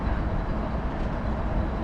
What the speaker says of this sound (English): Here's the train off to the right here.